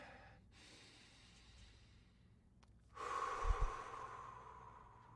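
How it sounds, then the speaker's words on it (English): A deep, slow breath during a calm mindfulness exercise: a soft, airy inhale followed by a fuller, louder exhale that rises near the end, close to the listener with no talking. "Taking in a nice, deep, cleansing breath and letting it out."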